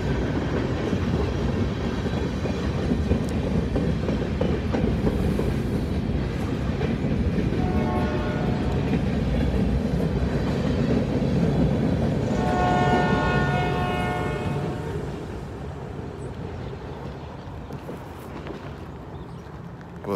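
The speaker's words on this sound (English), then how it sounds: "that train kind of snuck up on me" A short train rumbles steadily past up close, a continuous loud roar with harmonic squeals or horn-like tones rising midway, then fading somewhat as it moves on.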